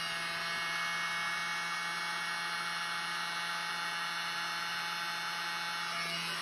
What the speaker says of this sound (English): And then my little blower.